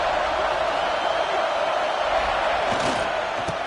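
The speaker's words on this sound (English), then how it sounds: "This crowd ready to make its presence known." Stadium crowd at a football game roaring steadily at the opening play, a dense continuous wash of cheering voices with a few sharper thumps near the end.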